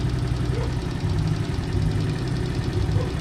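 A small Cerro C70 70cc motorcycle engine idles after a carburetor adjustment, a steady, slightly uneven putter at moderate loudness with no voices.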